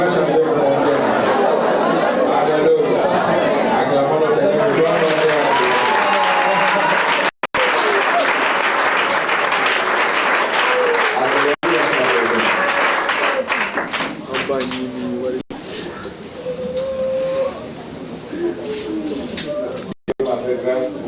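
Church congregation applauding and cheering in praise of the Lord, a dense continuous wash of clapping and voices that runs loud throughout, with brief dropouts.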